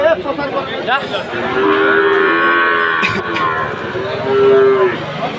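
A crossbred calf at a cattle market moos loudly and close by in a long, drawn-out call, with a second moo rising near the end over background market noise.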